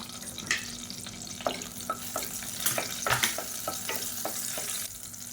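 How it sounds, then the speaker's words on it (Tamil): Green chillies slit in half sizzle and spit in hot oil inside a pressure cooker, a steady close frying hiss broken by sharp crackles and pops, with no talking. "அப்புறம் 5 பச்சை மிளகாயை 2ஆக கீறிட்டு சேர்த்துக்கலாம்."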